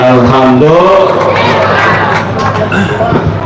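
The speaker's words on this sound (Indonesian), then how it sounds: "Tepuk tangan" An audience at a religious rally claps and cheers, a loud, dense crowd noise with shouts and whoops over a swell of voices.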